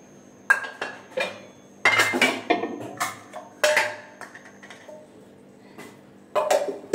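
Steel kitchen utensils and pots clatter and clink as they are set into a drawer at home, in a series of sharp metallic knocks and jangles with short pauses between them.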